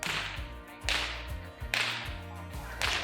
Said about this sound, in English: Farmer Rob will crack his whip to move them in that direction